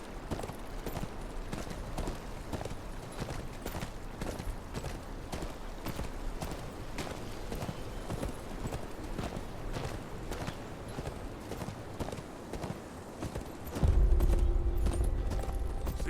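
Horse hooves clip-clopping in the Game of Thrones: Kings Road video game, a steady rhythmic stream of hoofbeats at walking pace throughout, joined near the end by a louder low rumble.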